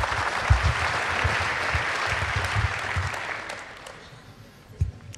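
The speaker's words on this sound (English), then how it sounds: "Give him a big round of applause." Audience applause at the closing event of the 24C3 hacker congress, a dense, steady wash of many hands clapping that fades near the end, with a few louder individual claps standing out.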